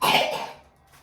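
A child gives one short, close cough that fades quickly into quiet.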